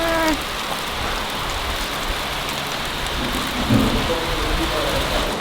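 Steady rain falls outside a house, a dense continuous hiss of drops with a faint low rumble, broken by brief faint voices.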